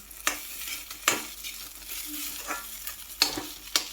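Ingredients dry-roast in a pan until browned, making a soft low sizzle with sharp, intermittent scrapes and knocks of a spatula, about five distinct strokes, close up and without speech.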